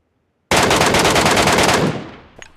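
A loud, close burst of automatic gunfire rattles for about a second and a half in a PUBG Mobile match, then cuts off and fades into a short tail.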